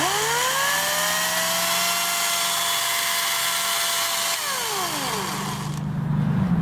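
An Ego electric chainsaw whirs loudly and steadily at close range, its motor pitch holding level, then winding down toward the end while a low hum lingers.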